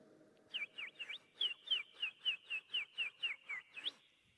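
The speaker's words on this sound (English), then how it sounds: "No sound is heard, save chirping sparrows." A sparrow chirps in a quick, regular series of about a dozen bright, rising-falling notes, clear and close against a quiet background.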